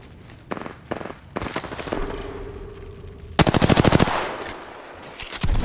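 Gunfire in the video game Apex Legends: short bursts of automatic fire early on, then a loud, sustained rapid volley, with a low hum between bursts.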